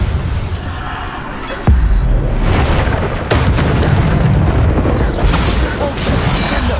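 A Bombarda spell explosion in the video game Hogwarts Legacy gives a loud booming blast with a sharp onset, set against a dense, continuous din of combat noise and followed by further rumbling impacts.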